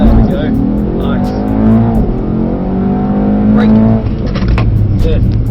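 A Mercedes-AMG car launches hard off the line on a race track at Mercedes-Benz World, its engine note climbing sharply through several quick upshifts, loud and close throughout.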